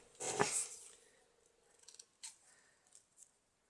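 Scissors snip through material while making shabby chic key embellishments, one loud close cut followed by several fainter, scattered snips and rustles in a quiet room.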